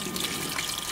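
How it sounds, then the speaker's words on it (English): Water pouring into a container during an eTape water-level calibration, a short, loud, continuous splashing gush with no pauses and no talking over it. "And I'll add my first water"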